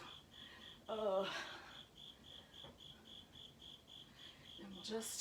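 Spring peeper frogs call outdoors in a regular train of high, pulsing peeps, steady and moderately faint, with a person speaking briefly over them.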